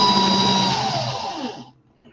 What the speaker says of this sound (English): See what happens when I turn the drill up higher.